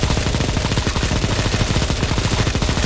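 Shotgun gunfire in a CSGO zombie escape match, loud rapid shots in a dense, evenly spaced burst that runs without pause through a thick wash of game noise.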